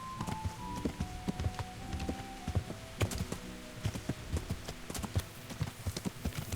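Horse hooves clip-clop in a fast, uneven rhythm in the medieval video game Kingdom Come: Deliverance, thudding repeatedly at close range over steady ambient background sound.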